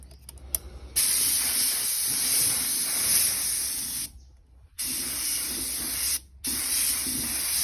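A spray gun applies red paint to a Honda Wave 125i in sustained bursts of bright, loud hissing, broken by two short pauses before spraying resumes.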